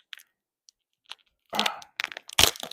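Disney Lorcana trading card packs being torn open, with a few sharp crackling rips and crinkles in short bursts near the microphone, loudest toward the end, after brief quiet ticks.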